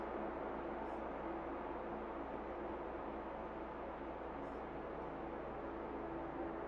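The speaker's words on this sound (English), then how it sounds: "I'm going to add some white noise here." Steady hiss of white noise layered into an Arturia Pigments ambient pad, a soft wind-and-rain wash that stays faint and even throughout.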